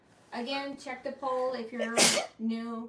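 A single sharp sneeze bursts out mid-sentence during a live-streamed chat, loud and close, with someone talking just before and after it.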